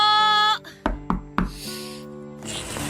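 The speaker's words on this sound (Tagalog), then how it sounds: "Sino kaya yung kumakatok sa labas?" Knocks on an apartment door late at night, three distinct raps spaced about a quarter second apart following a sustained musical tone, then a soft background wash.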